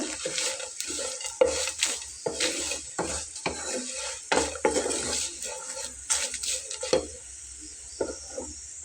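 Fried chillies, garlic and dried fish being mixed together in a pan for a mashed dried-fish dish, repeated close scraping and clattering stirs over a low sizzle, busy and uneven, with no voices.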